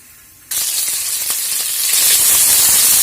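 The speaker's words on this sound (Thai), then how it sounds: "ตั้งกระทะใส่น้ำมันจนร้อนแล้วก็ใส่กระเทียมลงไปนะคะ ทอดจนเหลืองนะคะ" A sudden loud sizzle bursts out after a moment of quiet, as garlic hits hot oil in a pan and keeps frying golden with a steady hiss.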